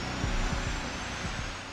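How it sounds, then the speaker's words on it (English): An SR-71 Blackbird's J-58 jet engines start after an ignition shot of triethylborane. A broad, loud, steady engine roar fills the air with low rhythmic rumbling pulses underneath, and no one speaks. "A shot of triethyl boron gas ignites the fuel, and the J-58 engines are started"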